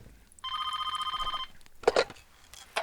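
A telephone rings once with a steady electronic trill lasting about a second, moderately loud. A few brief knocks and rustles follow.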